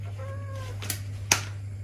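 A cat lets out one short, faint meow over a steady low electrical hum, with two brief sharp clicks or knocks close by afterward in an indoor room.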